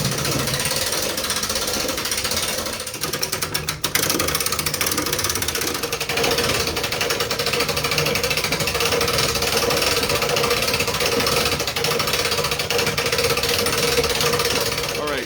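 Supco Trade Fox Attic Pro hoist lifting an HVAC recovery unit on its cable and hook, a loud continuous mechanical rattling and grinding drone that runs steadily throughout.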